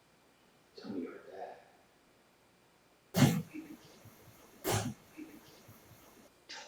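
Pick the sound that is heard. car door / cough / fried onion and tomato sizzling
cough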